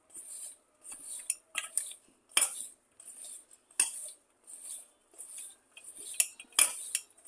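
Okra pieces are tossed with masala in a metal bowl, giving rhythmic scraping and clinking of a spoon against the bowl in regular bursts, close and fairly quiet, with no talking.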